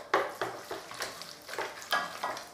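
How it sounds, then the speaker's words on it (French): Choux pastry dough being mixed after an egg is added, a rhythmic series of soft wet slaps and scrapes from a utensil working the paste in a bowl, close and fairly quiet with no talking. "je mélange ma pâte à choux"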